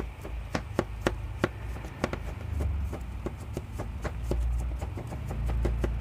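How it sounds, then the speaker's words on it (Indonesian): A knife chops garlic cloves on a cutting board in a home kitchen, a steady series of sharp close taps at an irregular quick pace, with no talking. "kita potong-potong bawang putih"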